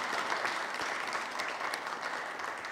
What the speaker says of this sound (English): Can we please give another round of applause of thanks and gratitude?